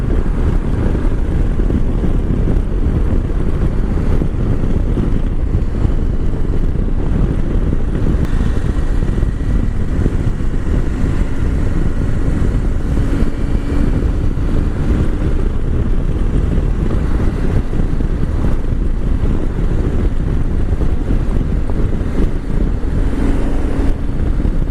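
A 2022 KTM 890 Adventure motorcycle riding along a road, a steady engine drone buried under heavy, constant wind rush across the microphone for the whole stretch, with no talking.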